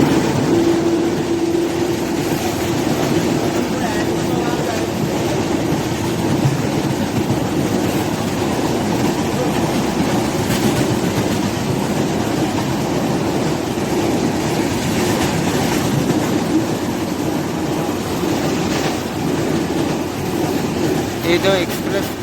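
A train runs on rails near Udhna Junction on the Ahmedabad to Secunderabad line, with an express overtaking. A loud, steady rumble and clatter of wheels carries on without a break.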